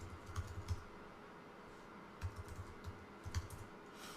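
Quiet, close typing on a computer keyboard: scattered clusters of soft key clicks with pauses between bursts, and no voices.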